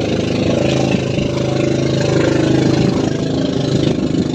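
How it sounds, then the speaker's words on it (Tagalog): A passing fishing boat's loud, steady motor engine drones throughout at sea, a continuous low rumble with no voices. "Dinaanan ng bangka."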